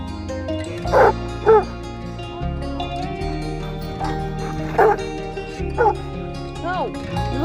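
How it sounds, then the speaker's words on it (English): A dog barks repeatedly at a dog park, several loud close yips and woofs in an irregular rhythm, with people talking throughout. "Don't bark at me until you got a ball."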